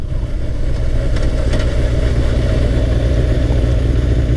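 A motorcycle engine with a newly replaced stator and voltage regulator runs steadily at idle nearby, a loud, even rumble that holds without revving.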